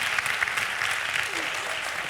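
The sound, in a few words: audience applause for Irene Montero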